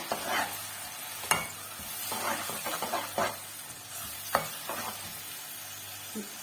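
Chicken tikka karahi with onion and yogurt frying over a high flame, stirred in the pan: close, steady sizzling with repeated scraping stir strokes and occasional sharp clinks, no voices.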